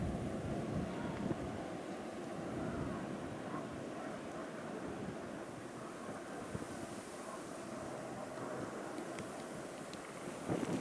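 A New England blizzard's wind roars in a constant low rumble, buffeting the microphone with little change in strength throughout.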